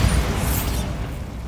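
A Bombarda blasting spell goes off in Hogwarts Legacy, a loud booming burst with a rumbling low-end roar and hissing debris that trails off over about a second and a half.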